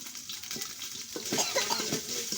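Soaked pulao rice is stirred and fried in a pot over a clay stove, giving soft, quiet sizzling with repeated scraping strokes that grow a little busier partway through, with no voices.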